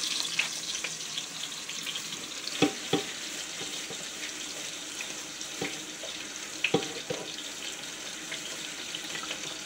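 Rice being rinsed under a running kitchen tap, a steady hiss of flowing water with scattered clinks and splashes as the grains are washed, fairly quiet and without talk.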